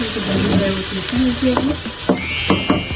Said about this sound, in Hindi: जो भिंडी है वो ऑयल में फ्राई हो रही है